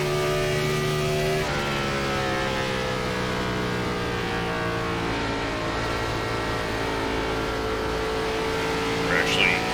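A Gen4 NASCAR stock car at Homestead in iRacing roars at full throttle, a loud sustained engine drone with climbing harmonics after an early gear change, steady for several seconds under occasional quiet commentary.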